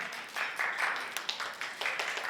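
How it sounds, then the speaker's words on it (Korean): Audience applause greeting a film director onstage at a drama series press event, a faint, steady patter of clapping heard from a distance. "여러분, 명현우 감독님을 박수로 모시겠습니다."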